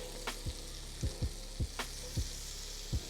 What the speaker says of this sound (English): we're going in with about a tablespoon more of butter. We wanna release all that fond off the bottom of the skillet